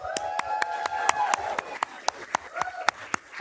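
An audience at a city council meeting claps for young athletes being recognized, a steady, rhythmic run of hand claps over a voice speaking underneath.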